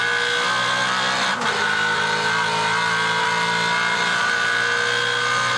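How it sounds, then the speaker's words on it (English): A 5-litre Tirana touring car accelerates up the back straight at Sandown, heard from on board as a loud, sustained engine howl with a brief dip at a gear change. "We'll ride on board with the 5-litre Tirana up the back straight."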